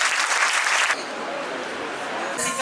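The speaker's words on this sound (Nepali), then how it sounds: "ताली चाहिँ यसरी बजाइन्छ" A dense burst of audience applause at a career counselling and motivational program lasts under a second, then fades into hall murmur before a short second flurry of claps.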